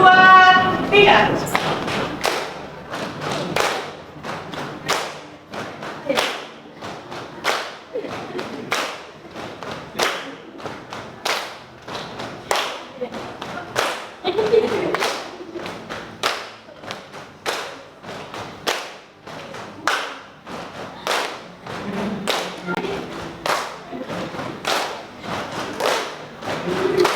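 A group of people clap in a steady, rhythmic pattern as part of a classroom clapping game, with sharp repeated claps in tempo and voices calling out between them.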